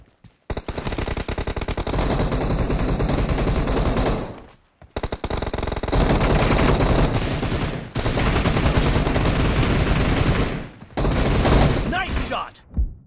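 Sustained automatic gunfire from the video game PUBG, dense rapid bursts filling nearly the whole stretch with brief pauses between volleys, loud and close.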